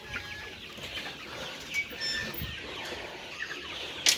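Chickens in a hybrid poultry shed, a dense steady murmur of clucking and wing flutters from many birds at moderate distance, with no voices.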